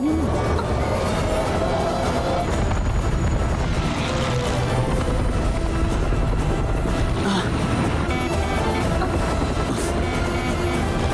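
A helicopter roars steadily and loudly throughout, its dense rotor and engine noise filling the whole clip without pause.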